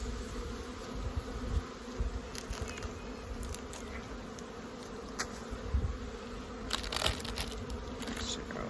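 Honey bees buzzing around an open hive on a farm, a steady close drone with individual bees zipping past the microphone and occasional rustling of hive handling.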